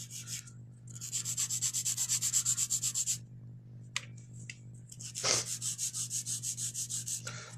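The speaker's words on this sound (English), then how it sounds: "And I'm using the 8080 sandpaper grit on my new fantastic file." A nail file with 80/80 grit sandpaper rubs rapidly across fingernails in quick rhythmic back-and-forth strokes, close and clear, pausing briefly midway before resuming.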